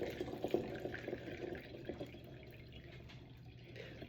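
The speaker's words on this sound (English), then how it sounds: "Now I'm just filling it with water and using it to get the rest of the yeast out." Tap water runs into a jug being rinsed of leftover yeast while making blackberry mead, a steady close splashing and trickling with small drips, fairly quiet and with no talking.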